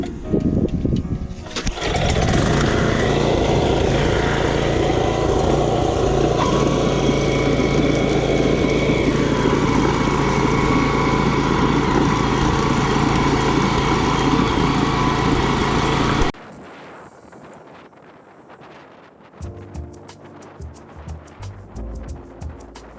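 A small tiller engine running loud and close in a vegetable field, a steady droning roar for about fifteen seconds before it drops away, followed by quieter clatter.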